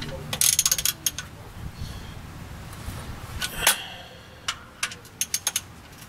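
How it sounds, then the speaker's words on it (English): Sharp mechanical clicks of a ratchet turning the oil drain plug on a 2003 Chevy Impala, scattered and close, with bursts near the start and a quick run of clicks toward the end over quiet garage background. "And tighten with the ratchet."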